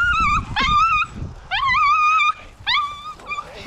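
A hunting dog whimpers in three high, wavering whines spaced across a few seconds, close and fairly loud, over rustling outdoor background.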